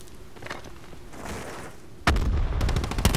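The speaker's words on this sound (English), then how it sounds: "Throwing frag grenade." Frag grenade explosion in Call of Duty Black Ops 4, a single sudden close boom bursting out after a couple of seconds of quieter game noise, followed by rumbling debris.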